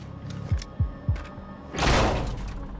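Three dull thuds in quick succession, then a louder sliding whoosh and rumble as a door is opened in Quantum Break.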